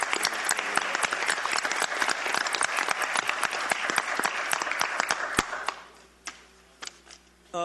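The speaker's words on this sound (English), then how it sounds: "You should give Darlene a round of applause for being the chair" Applause at a town council meeting, a dense patter of clapping from a modest crowd lasting about five seconds, then thinning to a few scattered claps and quiet room noise.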